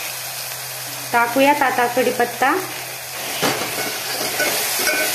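Ground spice paste (vatan) fries in a pan for amti, a continuous hissing sizzle under a voice talking in the middle, with occasional stirring scrapes.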